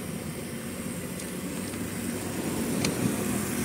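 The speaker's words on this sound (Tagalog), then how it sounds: "Nakabukas makina yan nakabukas yan." A lowered car with side skirts and fog lamps sits with its engine running, a steady low idle rumble close by, with a few faint clicks over the top.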